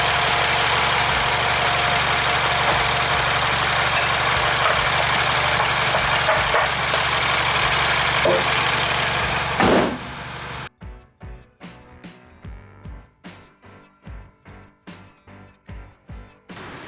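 The engine of a MINI Countryman, running again after a misfire repair, gives a steady, loud, close drone for about ten seconds, then falls away into a series of separate rhythmic thumps.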